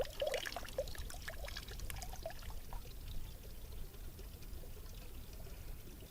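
Water splashes and trickles from a tap as the tank runs dry, an irregular pouring stream that thins out, close and fairly quiet with no voices.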